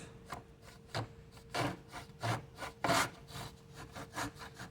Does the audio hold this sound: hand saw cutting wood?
yes